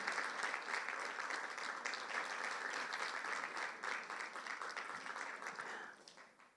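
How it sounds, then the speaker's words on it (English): Dense, continuous applause from an audience at a signing and handover ceremony, loud and steady for several seconds before tapering off at the end, with no talking over it. "Keep clapping until he gets to his seat."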